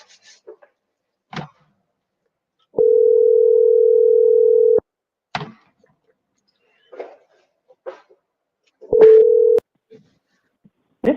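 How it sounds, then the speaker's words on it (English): A telephone ringback tone sounds as a call is placed, two steady buzzing rings roughly two seconds and half a second long separated by silence and brief faint clicks and noises. "Let's try and get Buffy on the phone."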